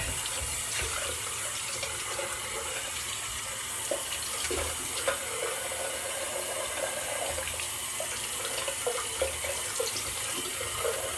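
Tap water runs steadily into a sink for a cold rinse after a shave, a continuous close hiss and splash with small irregular spatters.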